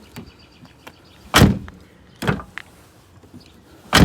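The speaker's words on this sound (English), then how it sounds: "here you can see that I can now open the door from the outside." Outside door handle on a Nissan 350z opened by hand, giving a few short mechanical clicks and a couple of sharp latch thuds, close and distinct against a quiet background.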